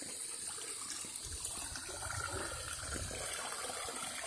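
Faint, continuous river water flows and gurgles in a soft, steady rush, heard from some distance in the mountains during the rainy season with no voices.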